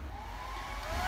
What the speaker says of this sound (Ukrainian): Беру фен, він має різну потужність в залежності від навантаження.